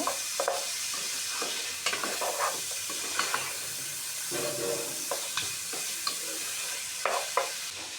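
Meat with chopped garlic being stirred and fried for haleem, a continuous sizzle broken by frequent spatula scrapes and stirring clatters, close and moderately loud.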